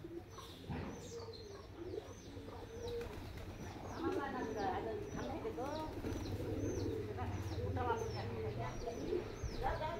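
Domestic house pigeons coo in soft, rolling repeated calls at a village home, with faint chirps and a low background hum, fairly quiet overall.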